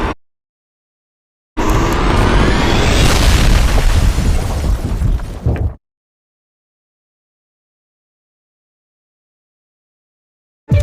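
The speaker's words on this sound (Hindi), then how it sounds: "और हमेशा की तरह इस जगह को भी बम से उड़ा देता है" A bomb explosion blows up a building: a loud, sustained blast with a rumbling roar and crackling debris lasting about four seconds, set between stretches of silence.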